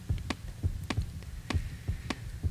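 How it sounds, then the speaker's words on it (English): A heartbeat in a horror video game, a low, close thumping in paired beats repeating steadily about every second and a half, alone with no talk. "Okay, that's a heartbeat."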